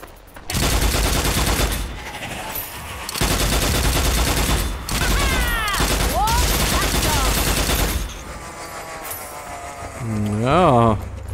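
A new weapon fires in the video game Strange Brigade, loud rapid bursts of automatic gunfire in several long volleys separated by brief pauses, with warbling creature-like squeals and chirps between them.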